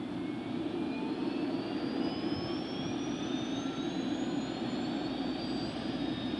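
Bell OH-58 helicopter turbine starting up, a steady loud whine with pitch gradually climbing over a dense roar as the rotor blades begin turning, no talking.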